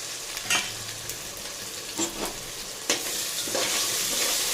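Green chillies fry in a pan under a constant hiss and sizzle, with a few distinct scraping strokes of a spoon stirring them at intervals.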